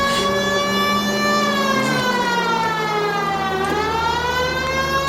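A police siren wails in the L.A. Noire video game, its rising and falling harmonic tone sweeping steadily and loudly for several seconds with no speech over it.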